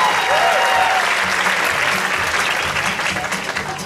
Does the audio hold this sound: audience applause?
yes